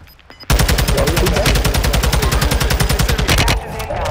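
Rapid automatic gunfire in the video game Warzone 2.0: a loud, close burst of evenly spaced shots starts abruptly and rattles on for about three seconds before cutting off.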